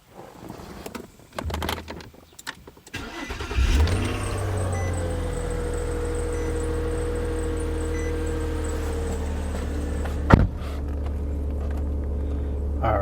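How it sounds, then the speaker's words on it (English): A car engine cranks and starts from inside the cabin, then settles into a steady idle hum, with a short sharp click or thump near the end. Brief rustling and handling noises come before the start. "I'm inside my vehicle and I'm just going to go ahead and start the vehicle up"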